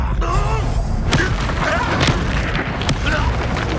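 A Bombarda spell detonates in Hogwarts Legacy, a sudden booming blast amid a busy magical duel, with sharp thuds recurring among other spell effects and swirling tones.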